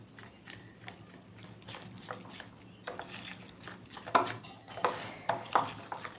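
Thick okra pakora batter being mixed in a bowl, soft scraping and stirring that grows into sharper clinks and knocks of utensil against the bowl toward the end, close and fairly quiet.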